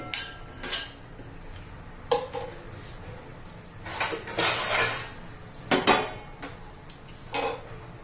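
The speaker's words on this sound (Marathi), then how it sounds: "हे पापड मी शेंगदाणे भाजून घेते" Peanuts dry-roasting in a pan for a spicy stuffed-eggplant dish, with a spoon scraping and clinking against metal in scattered bursts over a quiet kitchen background.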